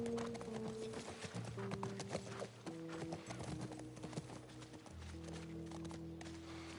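Horse hooves clip-clop in The Last of Us remake during horseback riding, a steady rhythmic trotting with a brief whinny, set against a tonal game music score at moderate level.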